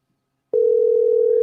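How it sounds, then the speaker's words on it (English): A phone call placed on speakerphone gives off a steady, loud single-pitch ringback or dial tone that starts abruptly after half a second of silence and holds unbroken to the end. "I'm calling his ass right now."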